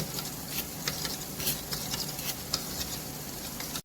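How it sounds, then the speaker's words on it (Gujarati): Chopped onion and tomato sautéing in a pan for mag masala, a steady close sizzle and frying crackle with light stirring scrapes throughout, no talk. "સાતળવા મૂક્યું છે ડુંગળી ટામેટાની"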